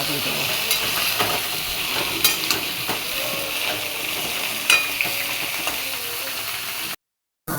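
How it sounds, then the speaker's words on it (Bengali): Potatoes and pointed gourd fry in a covered pan, giving a steady, close sizzle with a few light scraping clicks of stirring. The sound runs alone until it cuts out near the end. "এখন ভাজা হচ্ছে"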